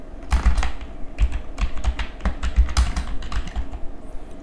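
An account password is typed on a computer keyboard during a Windows install of Matlab. Quick, close, uneven keystrokes clack in short clusters, without any talking.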